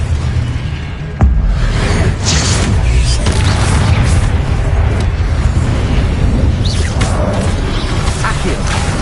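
A Confringo spell in Hogwarts Legacy on PS5 sets off a sudden loud blast near the start, followed by a sustained dense rumbling roar of combat effects that stays loud throughout.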